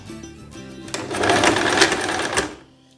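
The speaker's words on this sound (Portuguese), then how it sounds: "Tô costurando no ponto de zigue-zague." A sewing machine runs a zigzag stitch on a dress with elastic, its steady motorized whir building in loudness and holding for a few seconds before it stops.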